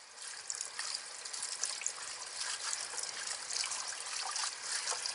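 Food being washed by hand in water while cooking Haitian bouyon, heard as faint, continuous trickling and splashing close by, with no talk over it.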